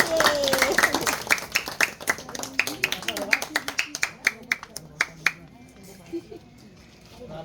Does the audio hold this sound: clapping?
yes